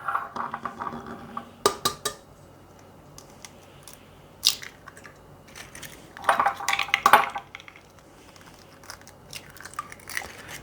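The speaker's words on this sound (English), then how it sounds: "Now, in my KitchenAid, I'm going to add 2 eggs." Two eggs are cracked into a KitchenAid mixer bowl, heard as sharp taps and clinks against the bowl with small splats and handling sounds scattered over several seconds, close and fairly quiet.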